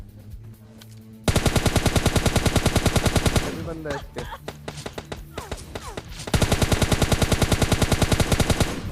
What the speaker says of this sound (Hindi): कुछ लोग गोली चला रहे